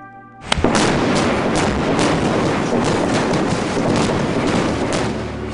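A blast at Condit Dam on the White Salmon River goes off with a sharp, heavy boom, then a long, loud roar of rumbling debris and rushing water that continues steadily afterward.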